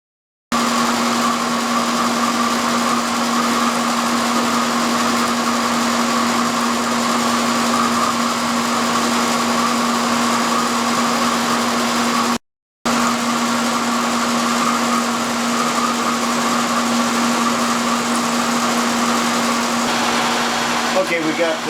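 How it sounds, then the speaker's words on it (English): A milling machine hums steadily with a high whine as a 4-inch shell mill takes a skim cut across the face of an aluminum block, running continuously with a brief break midway. "we're going to set it up with a 4-inch shell mill, and we're going to take a skim cut off of the face of it"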